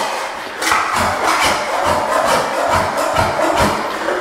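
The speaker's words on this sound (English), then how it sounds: "it's like scraping off there" Floor adhesive is scraped off a floor by hand in steady, repeated rasping strokes, about one every half second, continuous and close with no talking.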